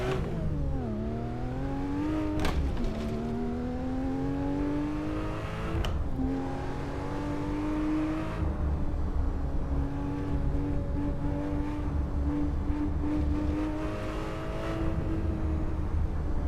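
A rally car in the racing game Dirt, its engine revving steadily with rising and falling pitch as gears change, loud and continuous, with no voice over it.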